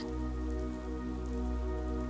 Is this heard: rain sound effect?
yes